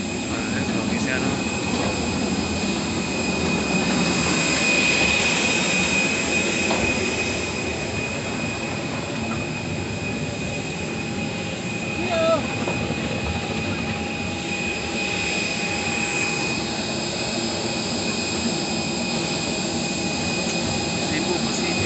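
A Cebu Pacific jet airliner drones loudly and steadily with a dense engine roar, heard from inside the cabin, with no pauses and faint voices under the noise.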